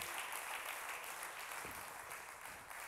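A church congregation gives loud applause during a Spanish-language Friday service, a thick continuous wash of many clapping hands throughout.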